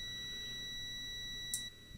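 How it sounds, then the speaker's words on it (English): A short, sharp electronic beep sounds once near the end as a relay's normally closed contact reconnects, over a faint steady high-pitched whine and low background hum. "we can see that it beeps when that connection is made again"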